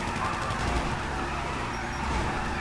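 A car doing burnouts in Grand Theft Auto V, a dense continuous roar of revving engine and tire noise, loud and steady for the whole stretch.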